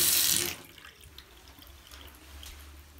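Water runs from a tap in a country-house plumbing system fed from a well. It starts as a loud rushing gush, then drops quickly to a soft, steady trickle with a low hum.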